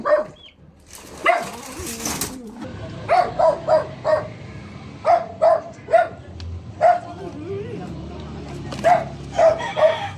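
A dog barks repeatedly in short, evenly spaced bursts nearby, with some background talking and rustling between barks.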